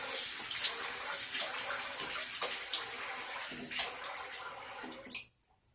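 Tap water runs steadily while shaving lather is rinsed off, with splashes breaking the flow. It ends in one louder splash, then the water stops and near silence follows.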